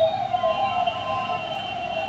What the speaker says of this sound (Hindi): इस एम्बुलेंस में जो भी है, राम जी उनकी रक्षा करें